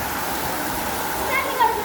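Steady rain pours down, a dense, even wash of falling water with a couple of brief splashes near the end, while children play in it.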